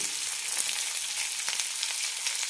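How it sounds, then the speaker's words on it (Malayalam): Sliced onions and curry leaves fry in hot oil for a capsicum chutney, a soft steady crackle with faint stirring scrapes, moderately quiet and without voices. "ഇനി ഇതിലേക്ക് സവാള ഇടാം കുറച്ച് കറിവേപ്പിലയും"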